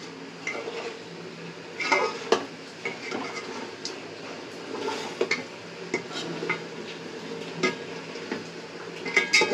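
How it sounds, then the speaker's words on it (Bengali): Meat is stir-fried (koshano) in a pan with a metal spatula, scraping and clattering in irregular strokes over a low, steady sizzle, close by and moderately loud. "এই যে মাংসটা কষাচ্ছি।"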